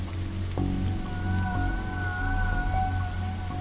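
Rain falls in The Darkside Detective as a steady, close patter over a low droning music bed, continuous and without speech.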